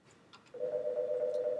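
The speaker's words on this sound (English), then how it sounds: "Somebody called my phone." A phone rings with an incoming call, a steady electronic tone starting partway through and holding on continuously, loud and close, after a few faint clicks.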